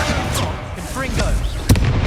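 A Confringo explosive spell going off in Hogwarts Legacy, a sharp burst near the end standing out over constant game noise and voices that talk throughout.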